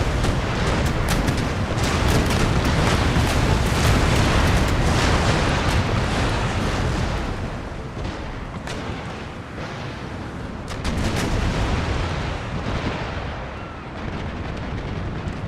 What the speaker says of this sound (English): there goes the broadside from the Stetton and then the Charleston